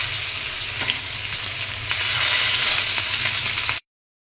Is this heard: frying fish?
yes